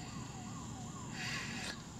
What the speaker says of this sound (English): That damn siren's been going on for 20, 25 minutes or so.